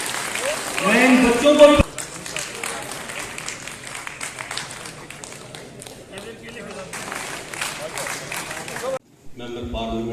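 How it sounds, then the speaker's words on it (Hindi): An audience at an Indian public health-sector event applauds, with scattered claps under a speaker's voice that carries on across most of the stretch. "भाई जोरदार तालियां इनके लिए।"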